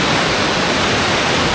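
River stream rushing over rapids on the Chattooga, a dense and loud continuous roar of water with no voices.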